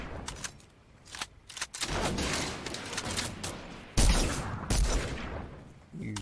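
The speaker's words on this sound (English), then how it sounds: "Where are we getting shot from?" Enemy gunfire crackles in a video game shooter, bursts of rapid shots arriving in uneven clusters with a couple of sharper, louder volleys midway, mixed with game effects.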